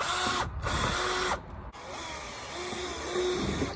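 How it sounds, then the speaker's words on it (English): Power drill boring through a Maxton Design rear diffuser on a Mk2 Focus ST, a continuous close whirring grind broken by two short pauses. "now to drill through them"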